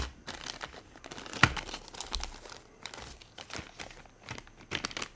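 Plastic Ziploc bags crinkle and rustle up close, with irregular crackling bursts and one sharper crunch, moderately quiet and continuous with no talk.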